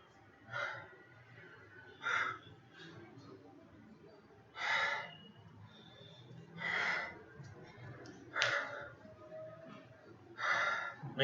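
Heavy breathing after a workout, with deep, regular breaths and gasping exhales roughly every two seconds, close to the microphone and otherwise quiet.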